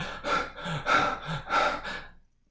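Heavy, ragged breathing in a horror film scene, a few close, loud gasping breaths in quick succession with nothing else around them.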